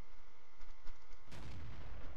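Leopard 1 tank cannon firing in World of Tanks: one sudden loud, booming shot cracks out partway through over steady engine and battle rumble, then a rolling tail.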